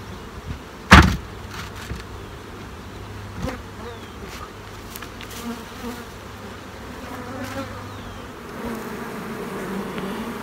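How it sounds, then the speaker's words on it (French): Honeybees buzz steadily around an open beehive during a summer inspection, a close, continuous drone with a sharp knock near the start and faint handling noises, no speech. "Regardez cette ruche-là"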